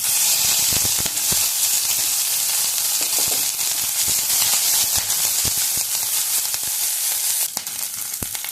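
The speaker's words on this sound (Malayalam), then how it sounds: "ചൂടാവുമ്പോൾ ഇതിലേക്ക് ഒരു കാൽ ടീസ്പൂൺ ഉലുവ ഉലുവ ചേർക്കാം അതേപോലെ ഇഞ്ചി പച്ചമുളക്" Fenugreek seeds, ginger and green chilli sizzle in hot oil for a Gujarati-style pumpkin curry, a dense continuous close frying hiss dotted with sharp pops and crackles, no talking.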